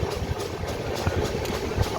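Train pulling into Manikpur railway station, heard from inside a general compartment: a steady low rumble of wheels and carriages with faint rhythmic clacks, continuous and fairly close.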